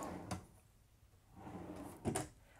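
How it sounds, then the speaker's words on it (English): A trailer kitchen drawer in a 2021 Outdoors RV Back Country 20BD slides open and shuts twice, quick rolling thuds close by in a quiet room. "And two more drawers."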